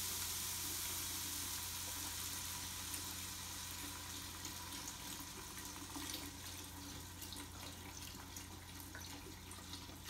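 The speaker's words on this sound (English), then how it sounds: "So I'm going to go ahead and pour that in there." Chicken stock pours from a carton into a cooking pot for red beans and rice, a continuous soft splashing rush that stays steady and fairly quiet for the whole stretch.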